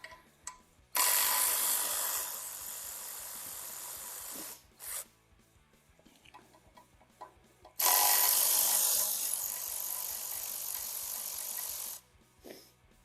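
A ratchet wrench works the 13 mm oil pan bolts on a Ford 5.0 HO 302 V8. It gives two long bursts of rapid, loud clicking of about four seconds each, separated by a short burst and quieter handling noises, with no talk.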